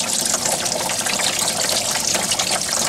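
Water gushing out of a Honda Civic radiator as it drains, a loud, steady splashing rush that continues without a break at close range.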